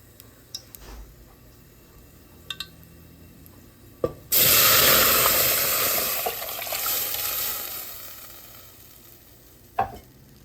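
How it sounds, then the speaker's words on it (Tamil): Ghee poured into cooked lentils (dal) bursts into a loud, sudden sizzle that fades gradually over several seconds, with a few light clinks before and after. "இப்போ பருப்புக்கு நெய் விட்டுருக்குறேன்."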